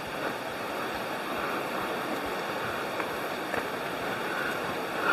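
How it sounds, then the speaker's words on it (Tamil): Water rushes at Talakona Waterfall, a 270-foot falls near Tirupati, during heavy rain, producing a steady broadband roar with faint splashes and no voices. "இங்கே தண்ணி சத்தம் அப்படியே செம்மையாக கேட்குது"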